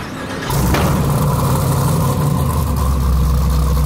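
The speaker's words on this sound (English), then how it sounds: "you think you fire it up so we can see how it sounds?" An LSX V8-swapped Jeep Wrangler on 40-inch tires, fitted with mufflers, starts up after a short quiet moment and settles into a loud, steady, deep rumbling idle close by.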